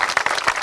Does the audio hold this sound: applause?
yes